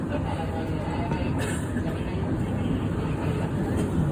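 A cog railway train gives a steady, loud rumble and hum from inside the car, continuous throughout, with a faint voice in the background.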